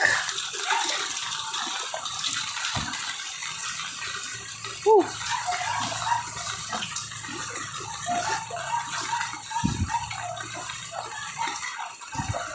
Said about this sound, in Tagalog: Baha na. Bahang baha.